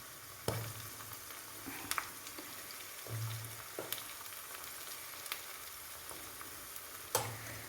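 Turmeric and Kashmiri chili powder fry in oil for an instant lemon pickle, a soft, steady sizzle broken by a few sharp clicks of a spoon against the pan.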